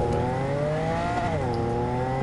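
A fast car in the video game Cyberpunk 2077 drives at speed, its engine a steady loud drone whose pitch sags and climbs as it shifts, with road noise underneath and no pause.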